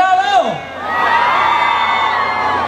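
A concert crowd at a live orchestra show in San Jerónimo Tianguismanalco shouts and cheers, a loud sustained roar of whoops and high cries that swells and holds.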